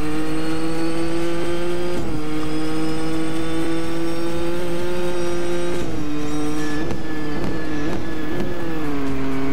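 A race car engine holds steady high revs around a track in a racing video game, loud and close, then dips and climbs through gear changes and braking into a turn, with no talk.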